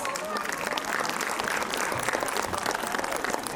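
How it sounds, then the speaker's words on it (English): Applause from an audience at a school annual function, clapping for young children after their Assam-themed performance; a steady, dense wash of many hands clapping close by, continuous throughout with a faint murmur of voices mixed in. "big claps for our little stars"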